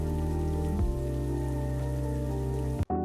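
Steady, dense heavy rain pours continuously, a full hiss of drops hammering a surface, briefly cutting out near the end.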